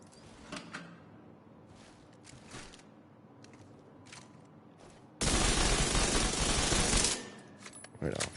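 SMG gunfire in The Division 2, a loud continuous automatic burst lasting about two seconds and then cutting off, with a few shorter bursts and clicks before it and a final brief burst at the end.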